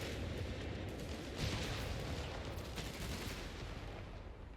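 Engineers' satchel charges and gunfire crack and boom in a Company of Heroes 3 4v4 battle on Alam El Halfa, a dense continuous wash of battlefield noise with muffled blasts and rattling shots, no voices.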